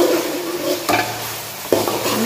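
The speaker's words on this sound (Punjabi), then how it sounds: "ਪਿਆਜ਼ ਅਸੀਂ ਹਲਕੇ ਫਰਾਈ ਕਰਾਂਗੇ" Onions stirred and lightly fried in a pan in a village kitchen, a steady sizzle with scraping stir strokes, close and fairly loud, no talking.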